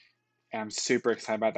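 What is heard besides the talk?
pet cat meowing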